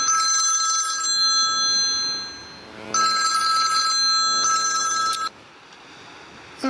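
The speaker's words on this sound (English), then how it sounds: "There's that phone again." A telephone rings near a sandy coast, loud bursts of ringing in repeated trills with short gaps between them, then it cuts off abruptly.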